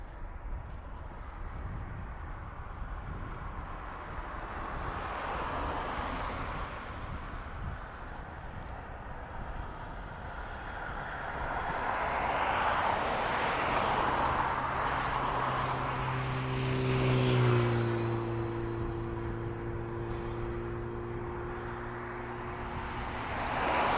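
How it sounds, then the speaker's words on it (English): A Qatar Airways Boeing Dreamliner arrives at Dublin Airport with a distant, faint engine rumble. It builds gradually and then swells with a whining tone before easing off. "So our Dreamliner from Qatar. That's our next big boy in."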